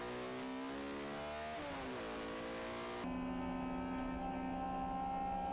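Race cars scream past on the Rockingham circuit, a loud high engine whine climbing through the gears, dropping at a shift, then holding a steady high-pitched roar heard close from on board.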